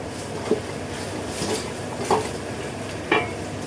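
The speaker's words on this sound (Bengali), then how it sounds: "আমি ঢাকনা দিয়ে খাসির মাথাটা কষাই নেব" Goat head being sautéed with spice paste in a pot over medium-low heat: a steady sizzle runs throughout, with three soft spoon scrapes against the pot spaced about a second apart.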